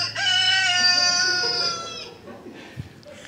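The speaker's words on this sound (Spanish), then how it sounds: "y con ese segundo gallo" A rooster crows at dawn, one long, loud, drawn-out call that rises and holds for about two seconds before trailing off, followed by faint background noise and a single soft knock.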